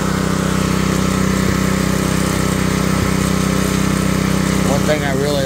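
A Gorilla petrol early-entry concrete saw engine runs at a steady, loud, buzzing idle close by, with faint voices over it near the end.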